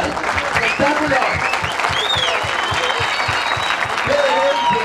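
A crowd claps steadily and enthusiastically, with voices and cheers mixed into the sustained applause.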